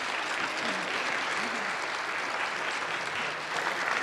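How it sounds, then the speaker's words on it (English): A church congregation applauds its Christian education committee with steady clapping that carries on for the whole stretch. "Could we give them a clap?"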